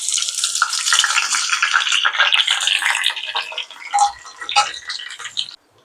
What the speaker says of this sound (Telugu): పోపు వేసుకోవడానికి కరివేపాకు, ఆవాలు, ఎండుమిర్చి, మినప్పప్పు అండి వేసేస్తున్నానండి.